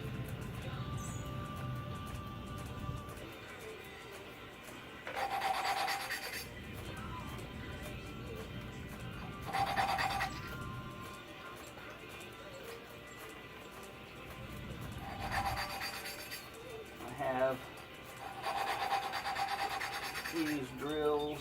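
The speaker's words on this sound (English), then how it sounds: "hand lapping is the preferred method." Rhythmic scraping and rubbing of an engine valve being hand lapped against its seat, repeated back-and-forth grinding strokes in several bursts, close and moderately loud, with quieter gaps between passes.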